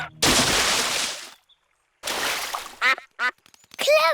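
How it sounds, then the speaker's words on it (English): Two loud, broad splashes into a duck pond, each lasting about a second, followed by a few sharp duck quacks. "What was that big splash?"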